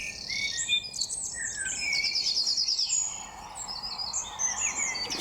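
Several birds chirp and trill in a forest, bright calls overlapping one after another over a steady outdoor hiss, with a faint insect buzz underneath.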